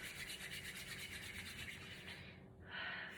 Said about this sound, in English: so rub those hands together